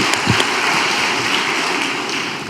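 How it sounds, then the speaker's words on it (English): Sustained applause from a church congregation fills the space, a dense steady wash of many hands clapping together, loud and continuous throughout. "Let's give them a big round of applause."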